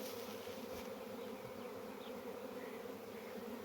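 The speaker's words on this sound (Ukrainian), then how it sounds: "мою ловушку заходить рій" A bee swarm moving into a bee trap, a dense continuous buzzing hum of many bees with a few individual bees droning past, steady and fairly faint outdoors with no talk.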